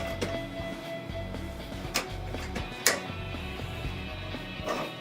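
Label media being rolled back into a label printer makes quiet, steady mechanical rattling, with scattered soft clicks and ticks throughout.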